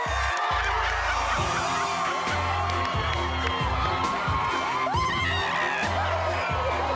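Crowd cheering and whooping outdoors as a family arrives home after Hurricane Charley, a steady wall of shouts and cheers with children's voices and occasional bangs, loud and continuous throughout.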